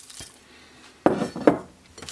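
Chocolate and cereal petals stirred together in a bowl for chocolate rose des sables, a few close, crunchy scraping strokes with light clinks of the utensil against the bowl, no talk.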